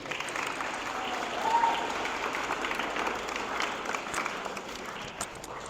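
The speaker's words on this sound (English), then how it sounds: "can clap, you can clap." At a senior awards ceremony, an audience claps steadily for a memorial scholarship presentation, a continuous wash of applause that swells briefly near the middle.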